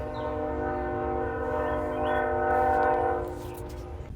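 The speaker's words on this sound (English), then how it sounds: "Okay, I think our train is gone." A train horn blares steadily with a rich chord-like tone, while rail rumble rolls underneath before fading out.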